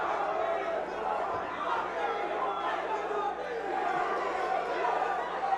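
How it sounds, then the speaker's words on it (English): Crowd at a regional MMA event in Spartanburg, South Carolina, a dense, continuous roar of cheering and shouting voices that stays loud and steady throughout with no break. "And listen to that crowd get into this."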